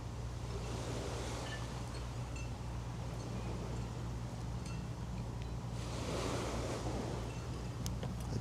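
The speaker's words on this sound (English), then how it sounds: "The gentle waves rolling up on the shore." Gentle ocean waves roll steadily onto a beach shore, a continuous broadband wash that swells and recedes, with some wind noise over the microphone and no voices.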